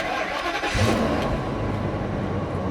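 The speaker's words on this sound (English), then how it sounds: "we're going to go run that errand with the 10-cylinder Ford pickup truck" A 10-cylinder Ford V10 pickup truck engine cranks and catches, then settles into a steady, loud rumble close by with no talking.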